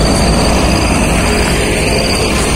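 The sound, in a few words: train passing near Citiis bridge, Garut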